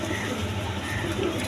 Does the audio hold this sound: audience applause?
no